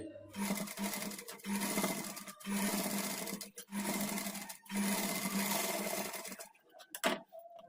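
A domestic sewing machine stitches around a blouse neckline in bursts of steady, even running, with several short pauses as the fabric is turned, close and fairly loud.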